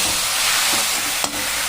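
Amaranth greens with onion cook in oil with salted water in a pan, a dense steady hiss and sizzle with one short scrape of a spoon near the end, close and fairly loud.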